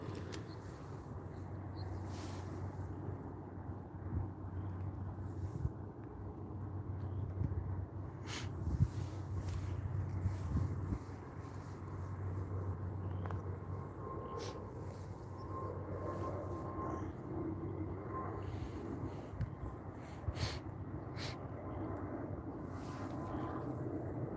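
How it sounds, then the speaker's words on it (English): An Air Canada Express Q400 turboprop on final approach at Vancouver International Airport, heard as a low, steady droning rumble that swells slightly, with a faint tonal hum and scattered nearby handling noises. "looks like an Air Canada Express Q400"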